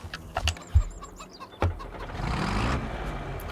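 A tractor engine in the video game Farming Simulator 25 starts up after a few sharp clicks and bird chirps, then settles into a steady, moderately loud running rumble.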